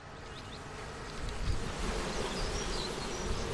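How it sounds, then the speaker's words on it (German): Honeybees hum around an apiary near Dortmund airport, a soft diffuse buzz with faint passing whines and a low rumble of wind or distant noise beneath, no voices. "Wenn ich bei meinem Bienenstand bin, bin ich nicht erreichbar, dann bin ich bei den Bienen."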